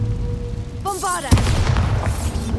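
Bombarda explosion spell in Hogwarts Legacy: a sharp magical whoosh rising into a single heavy boom, followed by a rumbling, crackling tail over steady background ambience.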